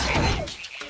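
A frog's croak in The Legend of Zelda: Echoes of Wisdom, heard in a rainy jungle area, one short loud croaking call that fades quickly.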